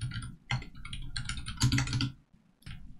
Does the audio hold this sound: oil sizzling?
no